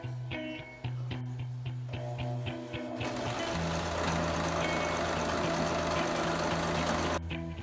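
A sewing machine stitching small loops along the bottom of canvas for the seat springs of a 1957 Oldsmobile 88, with short stitching bursts giving way to a longer steady run, moderately loud and close with no talking.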